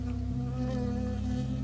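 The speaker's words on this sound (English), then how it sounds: "I got stung by a bee." Loud, close buzzing of a bee in the video game Firewatch, a steady droning hum that fills the short moment of the sting.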